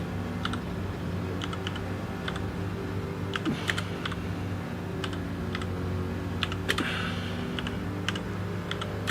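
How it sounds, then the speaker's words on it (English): Slow, irregular typing on a computer keyboard set at an awkward angle during a racing league live stream: sparse clicky keystrokes, sometimes in quick pairs, over a steady hum, with no talking. "I know it sounds like I'm typing like a 4-year-old child, but it's because my keyboard's off at an angle"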